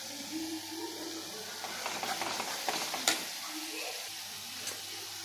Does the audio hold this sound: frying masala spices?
yes